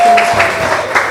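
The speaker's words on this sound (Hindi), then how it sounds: "भरपूर तालियां" Audience applause at a community fair celebrating the transgender community in Punjab, a brief, dense burst of clapping from a crowd, loud and close.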